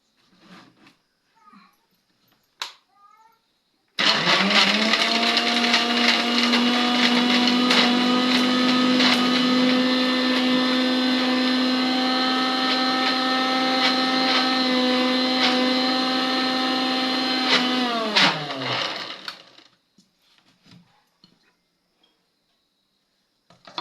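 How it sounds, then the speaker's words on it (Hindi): A mixer grinder whirs loudly and steadily for about fourteen seconds, then winds down, with faint clicks before and after. "बड़े वाले मिक्सी के जार में इसको बारीक कर लेंगे, यानी इसको पीस लेंगे।"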